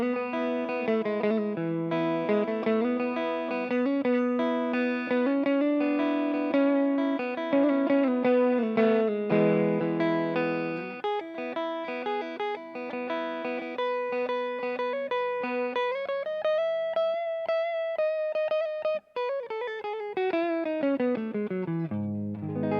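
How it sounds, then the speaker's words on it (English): An electric guitar solo is played with a clean tone through a Bugera V5 Infinium tube amp into a Bugera 1x12 speaker cabinet: sustained melodic notes and bends, loud and alone. "And here's the solo for that using a clean tone."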